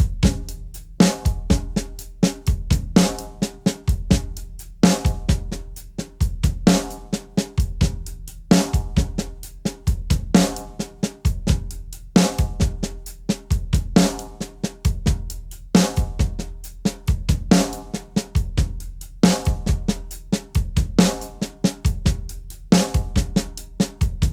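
A drum kit plays a slow paradiddle groove in 13/16, a steady loud pattern of drum and cymbal hits repeating in an even cycle with nothing else around it.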